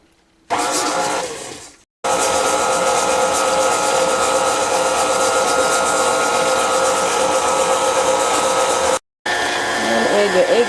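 An electric mixer whirs steadily on slow speed, beating butter into rainbow cookie batter; the motor runs loud and close with two brief stops.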